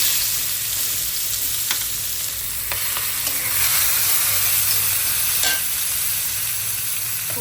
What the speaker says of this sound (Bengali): তো এখন দিয়ে দিব আমি পেঁয়াজ।